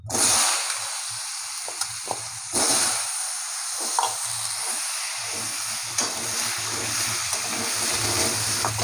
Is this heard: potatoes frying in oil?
yes